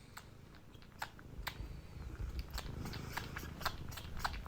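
A cat sucks and chews on a person's ear, making quiet, irregular wet clicks and smacking sounds up close against a soft, steady background hiss.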